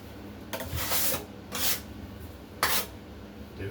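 A flat trowel spreads drywall joint compound in three short scraping strokes, each a soft swish of a second or less, close by with no talking.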